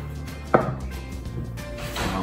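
A knife slicing through layered, butter-laminated bagel dough on a board, a single soft thud of the blade meeting the surface, followed by quieter rustling handling noises, close up.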